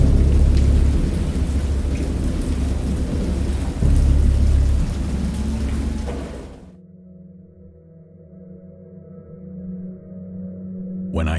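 Heavy rain and rolling thunder from a storm in the horror video game Dagon roar loudly for about six seconds, then cut off abruptly to a quiet, low drone.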